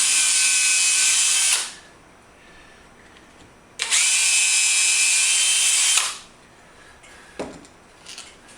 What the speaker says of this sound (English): we're just screwing one straight piece onto another straight piece.